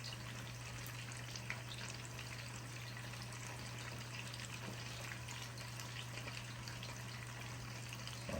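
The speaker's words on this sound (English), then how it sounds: "I'm going to let these fry until they're like a light brown" Frog legs fry in semi-low oil, a soft steady sizzle and crackle with scattered small pops, faint and continuous over a low electrical hum, no talk.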